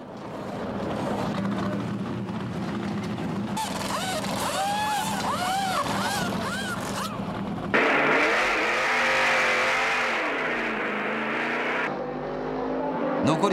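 NASCAR race cars at a 1996 race running under a yellow caution and coming in for pit stops, engines droning and revving at varying distances, with shifting crowd and track ambience.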